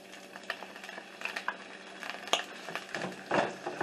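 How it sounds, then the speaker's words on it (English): Diced onions and vegetables saute in a pot for Italian meatball soup, heard as faint sizzling under frequent clinks and scrapes of a spoon against the pot, close and without talk. "we're going to saute our vegetables"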